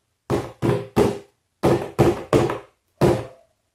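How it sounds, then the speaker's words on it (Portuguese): Knocks on a cardboard shoe box: seven hollow, dull taps in two quick groups of three and a final single knock, close and clear with silence between them. "É o som de uma caixa de sapato."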